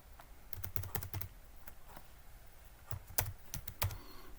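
Fingers tap out a command on a computer keyboard in short uneven bursts of crisp clicks, with pauses between clusters and a few louder key strikes, close and without speech.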